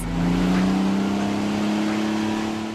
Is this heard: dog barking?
no